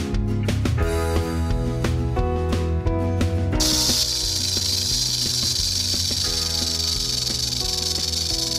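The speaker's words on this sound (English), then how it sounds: "What sound does a rattlesnake make?" A rattlesnake's rattle plays as a continuous dry buzzing hiss over a steady, looping musical backing track, loud and unbroken from start to finish.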